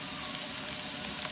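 Onions fry in hot oil in a kadai with a steady, moderate sizzle that holds without a break.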